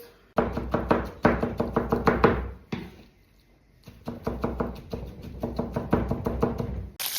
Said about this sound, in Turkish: Patlıcanlarımız közlendi. Şimdi doğruyoruz.